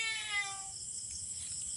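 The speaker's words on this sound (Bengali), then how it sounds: "এদিক থেকে শব্দ আসছিল। বিড়ালের ডাক।" A cat meows once near an old banana orchard, a clear tonal cry that fades after about half a second, leaving faint background noise.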